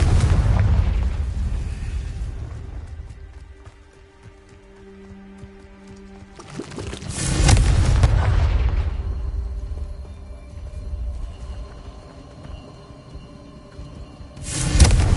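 Confringo spell blasts in Hogwarts Legacy on PS5, two heavy booming explosions several seconds apart, each a loud sudden burst with a rumbling decay, separated by quieter game ambience.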